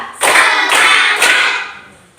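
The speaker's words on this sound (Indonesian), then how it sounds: "Tepuk 1, tepuk 1, tepuk 2, tepuk 2, tepuk 3." A classroom of students claps in a rhythmic clapping game, three loud bursts of group clapping close together, the last fading out, with no talk over it.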